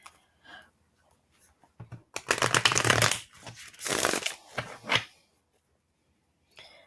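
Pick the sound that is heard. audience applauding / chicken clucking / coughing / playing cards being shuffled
playing cards being shuffled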